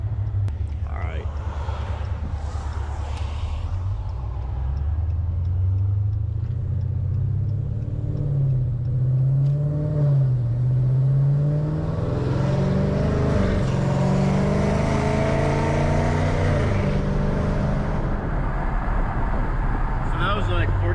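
A Dodge Challenger ScatPack accelerating at partial throttle on a road lined with trees, heard from inside the car. The engine holds a steady low rumble that rises in pitch as it pulls, with the exhaust echoing from the trees, and no one speaks.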